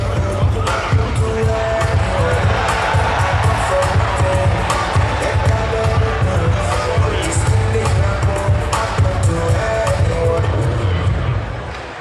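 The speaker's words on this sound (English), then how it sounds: "Please, another round of applause for him." A large audience at a 60th anniversary ceremony for the Midwest Referendum in Edo State applauds and cheers continuously, loud and dense, with a low drum-like beat running underneath throughout.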